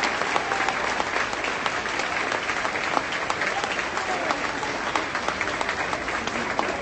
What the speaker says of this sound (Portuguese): uma linda e calorosa salva de palmas